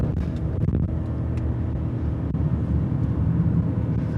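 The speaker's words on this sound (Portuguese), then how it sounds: "Agora, doutor André, eu quero ver se esse carro é realmente gostoso de dirigir de maneira esportiva." A Mercedes GLE 63 AMG driven hard, its engine a steady, dense low rumble with road noise that holds level throughout, no voices over it.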